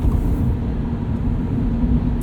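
Steady low engine drone from a 2022 Subaru BRZ driving on snow tires (Blizzak WS90), even and continuous at moderate loudness with no talk over it.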